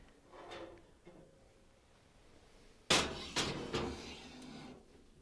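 A frittata pan going into a preheated 325-degree oven: soft handling at first, then a sharp metallic clunk of the oven door or rack, followed by two more knocks, nearby.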